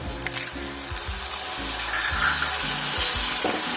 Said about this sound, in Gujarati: હવે તેમાં ટામેટા એડ કરી દઈએ